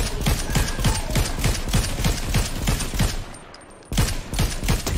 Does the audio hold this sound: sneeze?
no